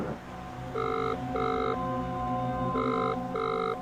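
A phone call rings out over a speakerphone in four loud, evenly spaced electronic ring tones with short gaps, heard alone without talk.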